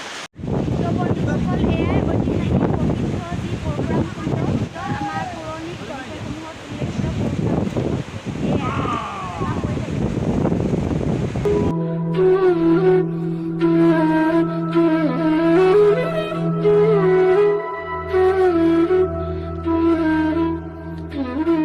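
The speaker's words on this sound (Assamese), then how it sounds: "বতাহ ইমানেই বেছি যে মানুহ মোবাইল কাপোৰ সকলো উৰুৱাই নিও কৰিছে।" Strong wind buffets the microphone at Parshuram Kund in Arunachal Pradesh, loud roaring gusts with rushing water beneath, then a voice speaks over the blustery noise in the second half.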